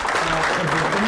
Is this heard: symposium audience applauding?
yes